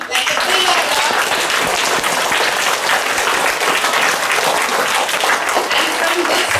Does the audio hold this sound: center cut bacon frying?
no